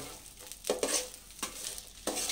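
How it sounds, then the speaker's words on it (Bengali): A spoon scrapes and stirs fried ingredients into chana dal in a pan, giving a few soft, close strokes over a faint, steady sizzle. "দিয়ে সবগুলোকে একটু মিশিয়ে নেব।"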